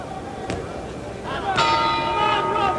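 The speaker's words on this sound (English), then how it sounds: "There's the bell." Boxing ring bell ringing to end round six of a 1964 heavyweight fight between Rubin Hurricane Carter and Jimmy Ellis, a sustained metallic ring rising over noisy crowd and commentary in an arena.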